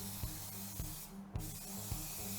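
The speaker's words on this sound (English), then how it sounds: "bring them outdoors and spray on" Aerosol can spraying clear finish onto wooden clamp parts outdoors, a continuous close hiss broken by a few soft periodic bumps.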